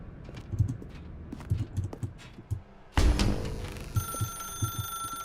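A telephone rings in The Stanley Parable, its bell starting suddenly after a run of soft, even footsteps and then holding as a steady, fairly loud electronic ring.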